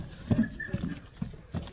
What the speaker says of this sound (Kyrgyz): Узап чабып көрсөтүп берели сиздерге